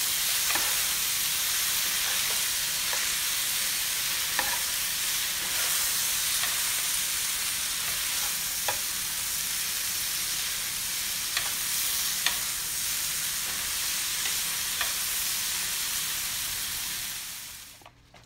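Carrots being stirred into noodles in a pan with the heat turned off, a continuous soft sizzling hiss with occasional faint clicks of the utensil, steady until it fades at the end.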